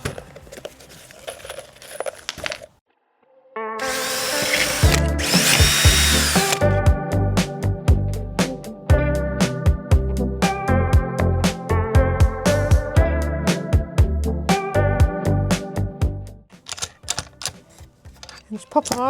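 A power drill drives pocket hole screws into wood while building a campervan window frame, whining and buzzing through several long, loud runs with stuttering clutch-like rattles and brief pauses between screws.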